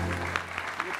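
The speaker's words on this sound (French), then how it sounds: "Applaudissez pour Abou, capitaine, courage." A studio audience at a TV show briefly applauds for Abou, the captain: a short, faint burst of clapping over a low hum, with a voice present.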